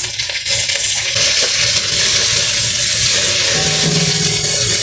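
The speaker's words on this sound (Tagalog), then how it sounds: "Dahil sa mainit ng mantika natin, ilagay natin ang ating garlic" Garlic and onion sizzling in hot cooking oil in a pan: a steady, loud, dense hiss with crackling pops that runs unbroken throughout.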